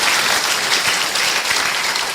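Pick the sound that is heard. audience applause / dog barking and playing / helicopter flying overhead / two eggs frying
audience applause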